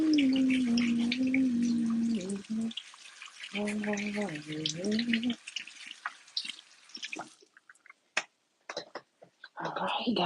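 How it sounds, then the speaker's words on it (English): Hands are washed under a running tap with splashing and dripping water, close by, while a steady low hum sounds at first and then drops away into scattered splashes. "I'm just going to wash my hands"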